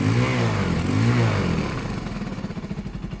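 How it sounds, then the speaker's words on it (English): A KSR Moto GRS 125cc motorcycle engine is revved loudly close by, rising and falling, then settling into a rapid pulsing idle. "It likes to be revved, this bike."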